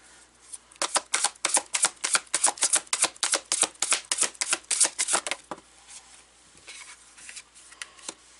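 Tarot cards being shuffled by hand: a quick series of crisp riffling flicks, close and fairly loud, fading into lighter card handling toward the end.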